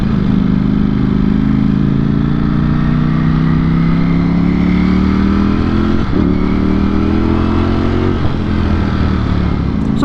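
A 2021 Ducati Streetfighter V4S engine drones steadily and loudly while riding, pitch slowly climbing with brief dips at gear shifts, close to the microphone throughout.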